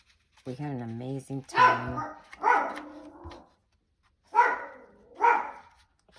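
Pet dog indoors giving a whine followed by several sharp barks in separate bursts, close by, mixed with a person talking.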